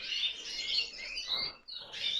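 Grey show canaries chirp and trill continuously at close range, a dense high twittering with brief pauses and no voices.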